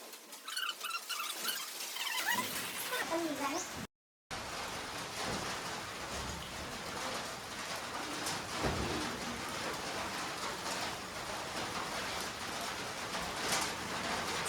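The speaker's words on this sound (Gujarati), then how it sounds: "અત્યારે બિનમોસમ બારિશ વરસાદ ચાલુ થઈ ગયો." Unseasonal rain falls steadily in a village, a loud, continuous patter and hiss of drops on surfaces, with a brief cut in the sound early on and occasional louder splashes and low rumbles; no speech.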